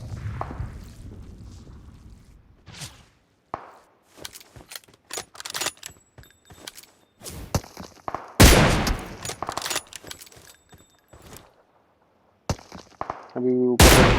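Kar98 and M24 sniper rifle shots ring out in a PUBG match, sharp loud cracks spread irregularly through the clip among gear clatter and game noise, with someone speaking over parts of it.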